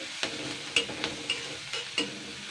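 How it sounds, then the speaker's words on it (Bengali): Crushed garlic and a green chili fry lightly in a pan under a soft, quiet sizzle, punctuated by four or five crisp spoon-against-pan stirring knocks at an uneven rhythm. "থেতো করা রসুন একটা কাঁচা লঙ্কা দিয়েছি জাস্ট দুই থেকে তিন মিনিট হালকা ভাজা করে নেব"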